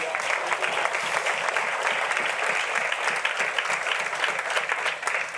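A church congregation claps together in a loud, sustained burst of applause that fills the room without pause for several seconds.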